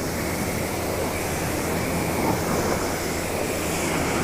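Foaming car soap rinsed off a car with water, a dense, steady hiss of spray at constant loudness, close and alone.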